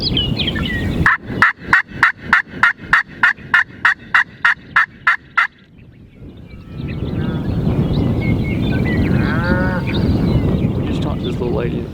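Wild turkeys gobbling outdoors in South Dakota, a rapid rattling series of about fifteen evenly spaced loud calls, followed by a steady rushing background with faint bird calls and people talking quietly.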